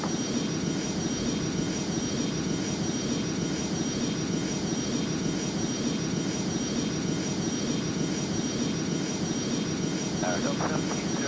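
An airliner departs from an airport runway, a continuous distant jet engine roar holding steady under faint background hiss throughout.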